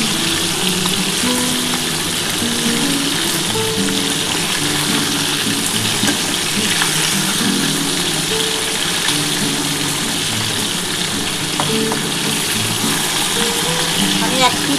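Pieces of heron fish frying in hot oil, a loud, steady sizzle with crackling pops running continuously, while a voice talks over it.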